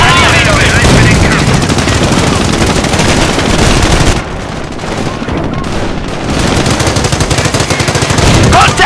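Dense, continuous gunfire and rapid machine-gun bursts from a US versus German battle in the video game Company of Heroes fill the scene, loud and close, with a brief lull midway before the shooting resumes at full intensity.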